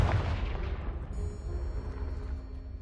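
Confringo blasting spell in Hogwarts Legacy, a heavy booming explosion that hits hard at once and then rolls into a rumbling decay over a few seconds.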